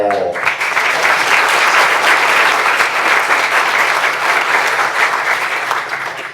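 Loud, sustained applause from a breakfast gathering's audience, dense and even clapping filling the whole stretch after a brief voice at the start.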